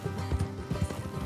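Horse hooves clip-clop on the ground in Red Dead Redemption 2, giving a steady rhythmic trot of low thuds under game ambience, moderately close with no speech.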